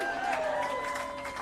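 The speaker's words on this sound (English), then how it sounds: "you can cheer for that" A crowd cheers and applauds at a Hollywood Walk of Fame star ceremony for Gillian Anderson, a brief, steady wash of clapping and voices at moderate distance.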